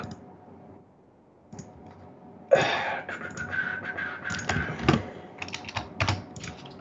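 Rapid, irregular bursts of keystrokes on a computer keyboard follow a quiet start, fast clicky typing close to the microphone with brief pauses between runs.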